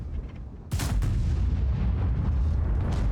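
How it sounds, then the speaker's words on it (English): In World of Tanks, a VK 72.01 K tank gun fires HEAT shells. One loud, sharp cannon blast is followed by a long rumbling tail, with the battle ambience and engine drone continuing afterward. "Because you only want to be firing 350 heat in this tank."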